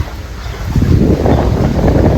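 Floodwater surges into a house after a dam upstream was opened. A steady, heavy roar of rushing water swells in after a quieter start, then stays loud and continuous with no voices.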